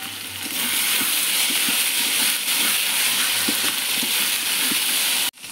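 Fish fries in hot oil with onion, garlic and ginger paste, a steady loud sizzle running without a break, with soft periodic stirring knocks underneath before it suddenly cuts off near the end.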